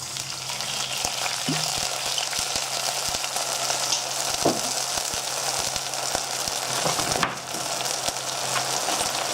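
Garlic frying in a pan gives a steady, close sizzle throughout, with a few soft clicks and stirring taps. No one speaks.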